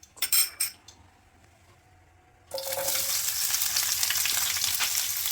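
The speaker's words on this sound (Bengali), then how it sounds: "আমি ফ্রাই প্যানে কিছু শুকনো মরিচ ভেজে নেব" Dried chillies fry in a frying pan while making an eggplant bhaji: a few metal utensil clinks, then a sudden loud, steady sizzle that continues to the end.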